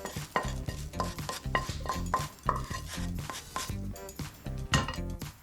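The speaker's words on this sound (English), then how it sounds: "into our pie dish goes our stewing steak. To that we're going to add the onions, and we'll mix all this ingredients together." Stewing steak and onions are mixed in a pie dish, with a steady run of close, rhythmic clinks and scrapes of a utensil against the dish, fairly loud and with no talking.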